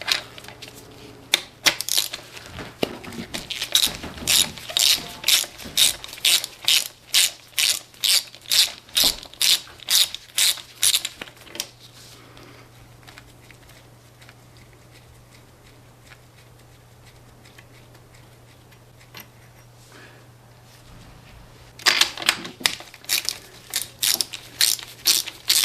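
A GEARWRENCH flex-head ratchet removing spark plugs from a Mercury Optimax outboard motor, a rapid run of loud, close ratcheting clicks, a quieter pause, then another burst of clicking.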